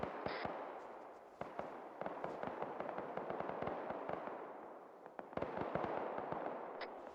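Rapid gunfire crackles through a large-scale Arma military battle simulation, with dense, overlapping shots and bursts that come both near and distant and keep up a steady barrage for several seconds with no talk.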